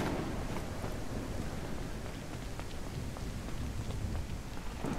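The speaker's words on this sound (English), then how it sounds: "Of course it would be raining right now." Steady rain falls outdoors beside a house, a dense, even hiss of drops on surfaces with some wind buffeting the microphone, and no one talks.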